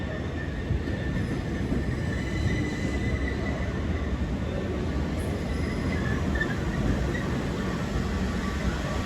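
A train at London Victoria station gives off a steady, continuous rumble of rolling stock and station machinery, moderately loud and unchanging, with no talking.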